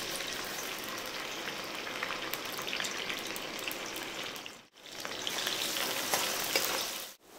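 Onions sizzling in hot oil for a mushroom masala curry, a dense, steady frying hiss close up with light stirring, broken by one brief pause near the end.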